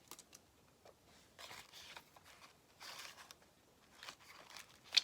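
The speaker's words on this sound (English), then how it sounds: "So just getting the backing off the sticker." Backing is peeled off a sticker for a junk journal booklet, faint close crackling and papery rustles in several short bursts with pauses between.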